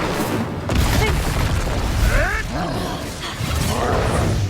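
Spell blasts in Hogwarts Legacy, Expulsion and Incendio cast in combat, heavy booming impacts and whooshing fiery bursts mixed with roaring creature growls, loud and repeated across the stretch.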